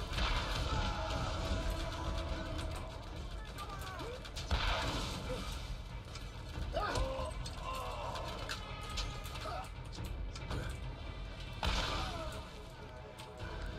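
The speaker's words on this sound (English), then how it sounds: "Let's take out the rocket launcher and have some fun." Rocket launcher fire in a video game: heavy booming blasts and crashing impacts recur over a dense, continuous layer of battle noise, fairly loud and close throughout.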